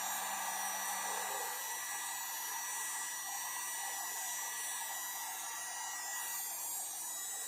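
A heat gun set to high runs steadily, warming faded plastic trim on a Jeep; a constant airy blower whoosh with a faint whine holds at an even, moderate level throughout, with no talking.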